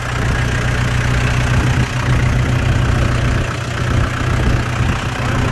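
A 2013 New Holland Workmaster 45 four-wheel-drive diesel tractor idles steadily, its low engine drone holding an even, continuous level throughout with no voices over it.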